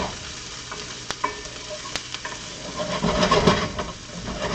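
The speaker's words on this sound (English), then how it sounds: "you always use a wooden spoon or a wooden spat to cook risotto" A wooden spoon scrapes and stirs risotto in a sizzling pan, with soft clicks against the pan and a steady frying hiss growing a little louder toward the end.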